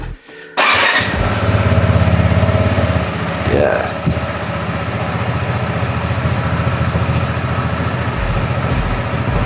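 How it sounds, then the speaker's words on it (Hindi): A motorcycle starts from cold with a short cranking burst, then settles into a loud, steady idle close by, while someone speaks briefly over the engine. "let's cold start the bike"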